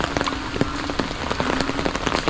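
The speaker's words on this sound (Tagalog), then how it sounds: "Bugbog sa ulan." Heavy rain pounding steadily on surfaces and garden plants like kangkong, a dense continuous patter with sharp drop impacts, no voices.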